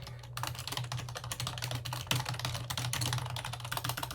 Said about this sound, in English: You can hear me typing really fast.